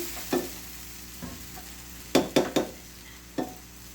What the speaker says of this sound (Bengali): এটা দিয়ে এটা সুন্দর করে কষাই নেব, ভেজে নেবো আর কি।